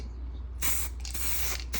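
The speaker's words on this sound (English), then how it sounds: "Same basic rules apply to just regular spray paint." An aerosol can of regular spray paint releases a steady broad hiss, with a quieter stretch at the start and then a strong continuous spray to the end, a brief dip near the close, nearby and with no talking.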